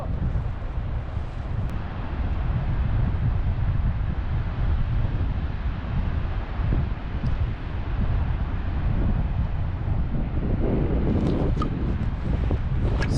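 Strong wind blowing across coastal sand dunes, a loud continuous roar with gusty buffeting against the microphone throughout.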